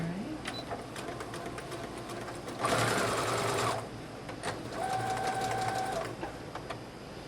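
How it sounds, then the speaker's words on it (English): A sewing machine straight-stitches across gathered fabric for a colonial costume dress, running in two loud, close bursts of steady mechanical whirring separated by a brief quieter pause. "I'm going to take it to the machine and I'm going to straight stitch right across here to secure that in place."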